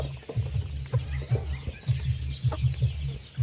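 Large and small chickens feed together on a farm, giving repeated low, throaty clucks in an uneven but steady rhythm, near and moderately loud with no talk.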